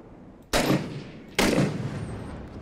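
Two loud, close gunshots from the Six Days in Fallujah war game, cracking less than a second apart, each followed by a short decaying echo, with no talking.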